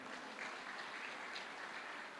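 Audience applause at a talk, a brief, dense wash of many hands clapping at once, steady and fairly faint, heard from a distance.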